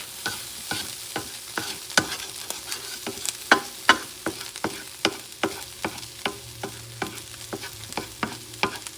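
Cauliflower fried rice with mixed vegetables and egg tossed and stirred in a hot pan, rhythmic spatula scrapes and clacks about once a second over a low steady sizzle, close up with no voices.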